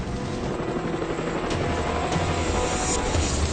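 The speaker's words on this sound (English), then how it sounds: "The pilot steers the Chinook onto the ridge." A Chinook twin-rotor military helicopter sets down on a mountain ridge, its loud, steady rotor roar and engine whine filling the scene close up without a break.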